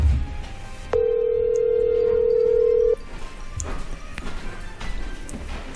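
A telephone call in progress gives one steady electronic ringback tone lasting about two seconds, loud and close, followed by quieter room noise.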